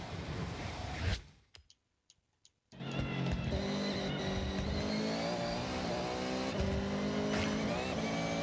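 A race car engine roars in the Forza Horizon 6 video game, dropping out abruptly to near silence with a few clicks, then returning as a loud sustained drone with harmonic whine.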